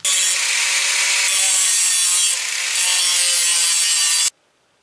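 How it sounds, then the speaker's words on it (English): An angle grinder shapes a broken bolt in preparation for TIG welding, giving a steady, loud, close-up grinding rush that holds for about four seconds and then cuts off abruptly. "I'm going to grind it down in a shape where I can actually weld to that"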